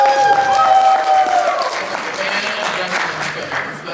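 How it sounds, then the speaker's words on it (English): An audience at a furry convention stage show claps in a loud, dense round of applause that holds steady for several seconds, with voices mixed faintly into the crowd noise. "If you're a wrestling fan, give us a round of applause."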